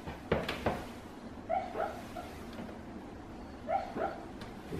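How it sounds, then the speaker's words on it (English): A dog dreaming makes a few soft, muffled whimpers and yips in short bursts, quiet against a faint room background. "You hear my dog in the background"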